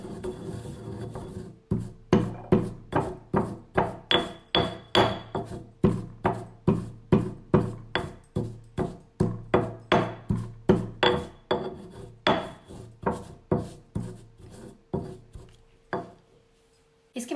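Palm sugar is worked into chili and garlic for a vegetarian Thai papaya salad, with about thirty close, steady rasping strokes at an even rhythm of roughly two per second, and no voices.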